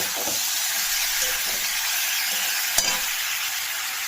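Taro sautéing in a pan after being boiled in salted water, giving a steady, close hiss of frying with a faint clink near the end, and no talking.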